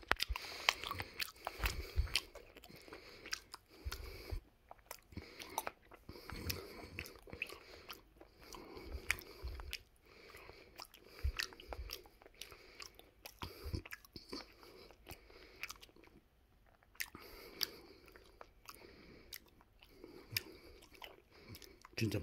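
Someone eating yellowtail belly sashimi close to the microphone, with soft, wet chewing and biting sounds that repeat irregularly for over twenty seconds, quiet and intimate.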